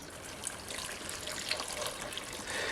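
Three cups of water pour into a pot for orange pie syrup, a soft, steady trickle that stays faint and continuous from start to finish.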